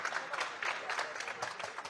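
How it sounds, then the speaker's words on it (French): Amazon warehouse staff applauding together, a faint, dense patter of many hands clapping at once, continuous and even across the short stretch. "vous pouvez vous applaudir bien fort"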